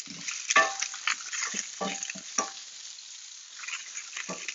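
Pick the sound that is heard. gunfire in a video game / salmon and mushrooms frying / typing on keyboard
salmon and mushrooms frying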